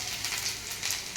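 Chopped ginger frying in hot oil for broken wheat upma, a continuous faint crackling sizzle with light fluctuations, no voices.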